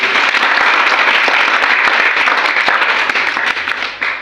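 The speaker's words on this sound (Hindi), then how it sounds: "एक जोरदार ताली भाई के लिए" Steady, loud applause from an audience clapping for a participant at a talk, dense and continuous for several seconds, fading slightly at the end.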